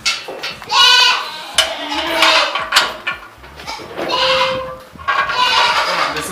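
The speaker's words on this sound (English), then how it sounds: "This is one of our native goats." Native goats on a tiled smart farm bleat in several loud, wavering calls close by, with short gaps and bits of handling noise between them.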